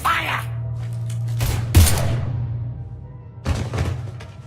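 Gunfire in the Mass Effect 3 video game on the Citadel, sharp close bursts of shots and thuds in separate clusters over a low steady hum, with quiet gaps between volleys.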